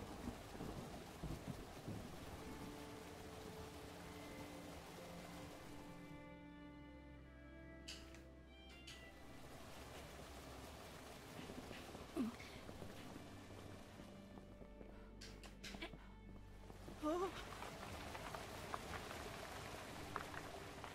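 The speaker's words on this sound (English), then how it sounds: "Can't be doing with storms" Thunderstorm with rain in A Highland Song, a steady wash of rainfall under long low rumbles of thunder that swell and fade several times across the stretch, with no voices.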